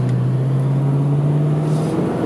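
A 1987 Chevrolet Corvette pulling into traffic, its engine a loud, close, steady drone that holds a constant pitch briefly, then fades slightly at the end.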